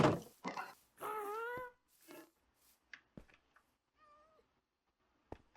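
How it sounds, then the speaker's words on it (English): A cat meows several times in Minecraft, with clear drawn-out calls spaced across a few seconds, plus a few soft clicks and game noises between them and no talking. "Is that a wild cat?"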